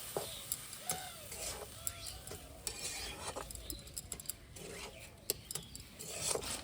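Semolina is stirred in a pan as milk is poured in little by little, making quiet, scattered scraping and clicking strokes against a faint hiss.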